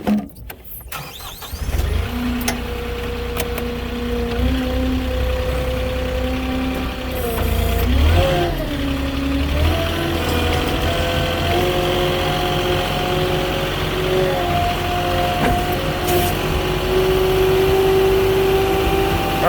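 Vehicle starts up and drives across a neighbour's property, its engine note rising and shifting as it moves, with steady loud engine and road rumble throughout and no talking.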